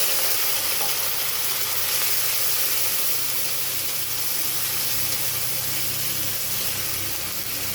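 A splash of water added to a frying spice mix in a pan for chickpea dal with egg: a loud, sustained steamy hiss that stays nearly constant throughout, with no speech.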